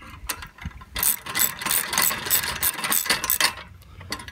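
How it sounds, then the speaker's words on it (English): A hand ratchet snugs up the bolts clamping a center post to its brackets during a RockGARD install, giving rapid repeated clicking bursts that run almost continuously for several seconds, close and fairly loud. "we're going to go ahead and snug up the bolts that are clamping the center post to the brackets"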